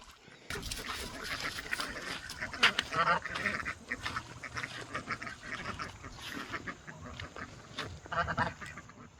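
Ducks quack repeatedly near a farm pond, a busy and fairly close chatter of overlapping calls over rustling outdoor noise.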